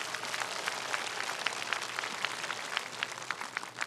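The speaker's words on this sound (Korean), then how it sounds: "대화랑 국회의원 김석기 님께 다시 한번 큰 박수 부탁드리겠습니다." Audience at a Silla cultural festival ceremony claps steadily, a broad rain-like patter of many hands with scattered sharper claps, even in level and somewhat distant, with no voices over it.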